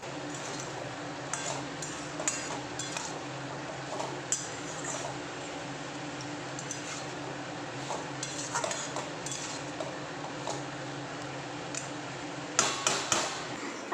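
A vegetarian drumstick vegetable curry is stirred in a pan, soft scraping under a low steady background with scattered light clinks of the spoon against metal and a brief louder cluster of taps near the end.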